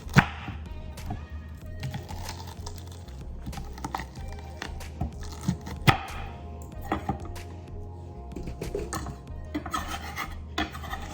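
A knife cuts through ingredients for a shrimp and lobster seafood boil on a cutting board, making repeated close scraping and chopping strokes in an uneven rhythm.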